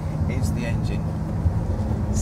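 Lamborghini Aventador with its 6.5-litre V12 engine rumbling low and steady from inside the car while someone talks over it throughout.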